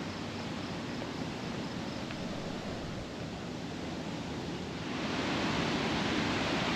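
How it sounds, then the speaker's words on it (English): A constant roar of water rushing over a dam spillway fills the air, broad and steady, swelling slightly louder toward the end. "I could really hear the water running."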